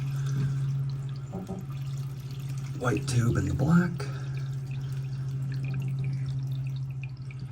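Water drains from a marine toilet hose into a bag in a controlled trickle, a soft, steady drip and pour over a constant low hum, with a person talking nearby.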